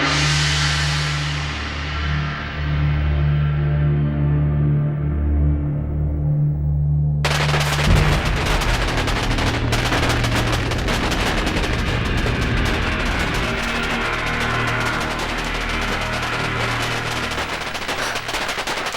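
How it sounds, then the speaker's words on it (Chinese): Celebratory fireworks in a Chinese war film set during the Taiyuan campaign, starting as a dense crackling barrage after a sustained tone, then continuing as loud rapid bursts and pops throughout. "皇上，这是在放庆贺烟花呢。"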